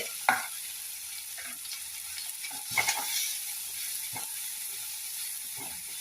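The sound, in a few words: sautéing with curry powder and turmeric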